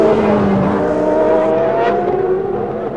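Formula One race car engines from the 1994 season roar loudly and continuously, a high-pitched whine that shifts slightly in pitch as the cars pass, with no voices.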